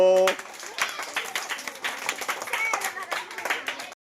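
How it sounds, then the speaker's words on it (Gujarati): A group claps for the winners of a flour-blowing party game, giving several seconds of lively, uneven applause with voices mixed in, which stops abruptly. "ચલો ભાઈ જે વિજેતા બન્યા છે એના માટે તાળીઓ પાડો"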